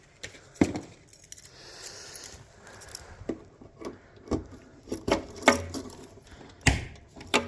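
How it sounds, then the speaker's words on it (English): Keys jangle as they are pulled out in a garage beside a Firebird, giving irregular metallic clinks and rattles that build toward sharper jingles near the end. "Let's get the keys back out."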